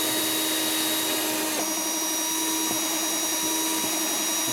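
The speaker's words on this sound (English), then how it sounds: "So let's get this hole drilled in here." A power drill whines steadily as it bores a hole through a 2x3 foot model train layout, with a sustained tonal hum, a pitch shift partway through and a few small knocks.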